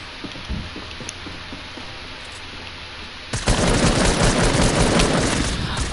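Rapid automatic gunfire in a PC shooter game, a few faint scattered shots at first, then a sudden loud, dense burst of fire that continues steadily to the end.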